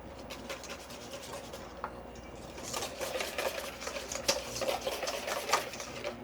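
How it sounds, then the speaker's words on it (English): Duck breast sauce whisked until emulsified, a fast rapid scraping and tapping of a whisk against a bowl that grows busier partway through, close but fairly quiet, with no speech. "after you get it all nice and whisked up, nice and emulsified like so"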